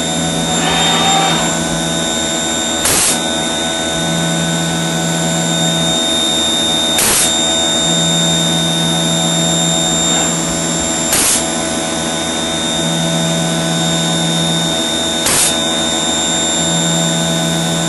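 A HAAS TM-1P CNC mill engraving an LED edge-lit sign, a steady loud whine and hum of the spindle with a sharp whoosh burst recurring roughly every four seconds, with no talking.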